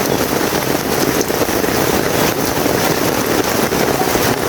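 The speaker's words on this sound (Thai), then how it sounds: "นอนสบายเลยฝนตก แต่ก็ไม่สบายแล้วครับ นอนดูน้ำฝนหยด" Heavy, steady rain pours down in a tropical rainforest, a dense continuous hiss of drops striking leaves and ground with no pauses.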